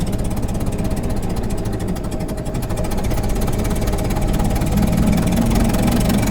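A 1927 Ford Model T engine with a slight exhaust leak idles and runs steadily with a rough, rumbling, slightly raspy exhaust note, loud and continuous with no talking.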